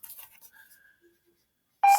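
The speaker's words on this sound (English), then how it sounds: "that keeps beeping" A loud electronic beep sounds abruptly near the end, following a stretch of soft scattered sounds and near silence.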